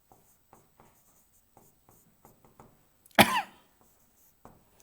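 Chalk or marker taps and scrapes across a board in soft, spaced strokes during a chemistry lecture, interrupted by one loud cough partway through.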